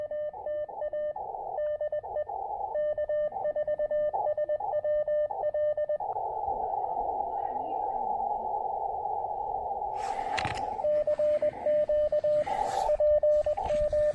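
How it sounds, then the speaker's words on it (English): A faint radio station sits on a noisy, unstable amateur band, heard as a steady whistling tone broken by pulsing, Morse-like beeps and a stretch of hissy static. A short burst of crackle comes near the end. "I did hear a quiet station in there"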